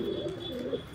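A pigeon coos softly at a high-flying pigeon loft, a brief low rounded call heard close by against a faint steady background hum.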